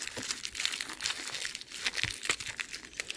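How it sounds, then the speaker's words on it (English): Plastic wrapping crinkles and tears as it is pulled off the locking head of a Gen 7 Combat Application Tourniquet with one hand, a close, continuous crackle broken by sharper crunching bursts, with no talk. "let me continue trying to pull this plastic off here with one"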